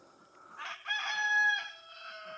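A bantam rooster crows once in a bright, drawn-out cock-a-doodle-doo at fairly close range outdoors in a home orchard, with no talking over it.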